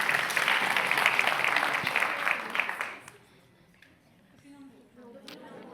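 An audience applauds at a talk about an edible school garden, a full round of clapping that lasts about three seconds and then drops away, leaving quiet room sound with faint murmurs.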